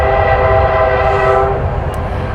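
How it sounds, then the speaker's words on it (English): A train sounds its horn nearby, a loud sustained chord over a low rumble that cuts off partway through and leaves the rolling noise of the rail traffic continuing beneath. "He can't hear the train right now."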